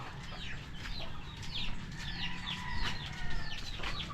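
A pet chicken clucking in the dim early morning, a string of short, sharp clucks and squawks close by over a low rumbling background.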